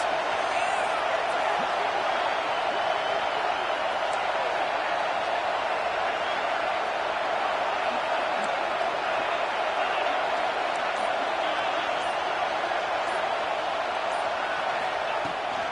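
A stadium crowd at a Penn State football game roars on a big third down: a dense, sustained wall of cheering that stays loud and even throughout, with a commentator's voice faintly over it.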